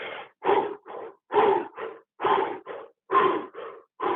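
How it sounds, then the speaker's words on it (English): Rapid, forceful breaths through the mouth, paired inhales and exhales repeating in a steady rhythm, close and loud. "rapid inhaling and exhaling through the mouth"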